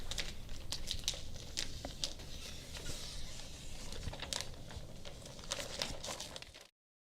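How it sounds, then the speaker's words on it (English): A knife slicing excess plastic sheeting along magnetic strips on a ZipWall dust barrier, heard as close, continuous crinkling and scratchy cutting with small clicks for several seconds before it stops abruptly. "cut the excess plastic away by tracing the magnetic strips with your knife"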